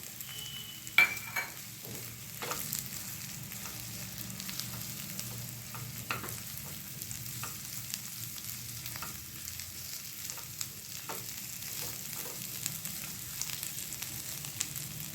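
Boiled potatoes sizzling in spiced oil for aloo pudina, a steady frying hiss with occasional sharp clicks of a spoon stirring the pan, no voices.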